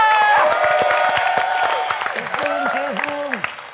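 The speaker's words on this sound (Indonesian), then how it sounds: "Boleh tepuk tangan dulu pemirsa." Studio audience clapping and light cheering at a television show, strongest at the start and tapering off, with voices and laughter mixed in over the fading applause.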